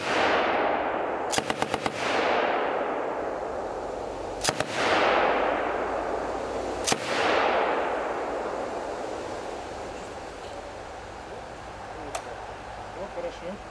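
A staged battle scene on a film set near Saint Petersburg: sharp bursts of rapid gunfire and several booming blasts ring out, each trailing off in long echoing decays across open ground.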